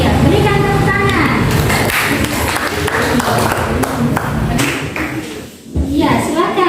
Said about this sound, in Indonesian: Iya, berikan tepuk tangan.